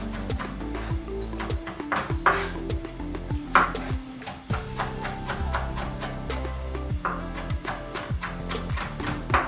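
A knife chops food on a cutting board in a home kitchen during a knife skills demo by a young cook. Quick, irregular taps and thuds run throughout at close range, with some clattering of kitchen items alongside.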